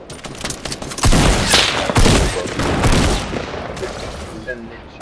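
Rocket fire and explosions in the battle royale game Fortnite, a rapid run of loud booming blasts and crackling bursts that swell and overlap through the middle, with people talking over them.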